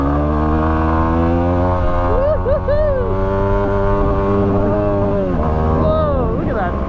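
A Yamaha WR250R dual-sport engine revs hard and steadily through a wheelie, its drone rising and dipping in pitch as the throttle changes, with wind rush and a rider talking over it.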